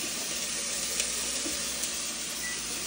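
Arroz caldo sizzling steadily in a pot, a close, continuous bright hiss of frying with no talking over it.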